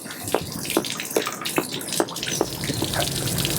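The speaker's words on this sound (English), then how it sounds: "right now it's draining all the water out of it" Water draining out of a 10-gallon suburban hot water tank with the anode rod removed, a steady splashing gush with repeated drips and plops, fairly close and continuous throughout.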